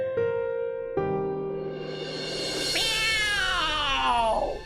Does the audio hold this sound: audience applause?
no